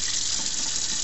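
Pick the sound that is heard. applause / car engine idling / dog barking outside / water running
water running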